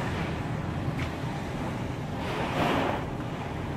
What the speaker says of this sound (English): This is what 100 mile an hour winds look like.